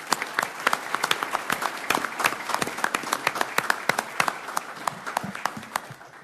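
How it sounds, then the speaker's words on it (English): Scattered applause fills a county board of supervisors meeting room, sharp individual claps from a modest group rising and falling steadily throughout, fairly quiet and without talk. "So we hope we can all join her and applaud for what a great person"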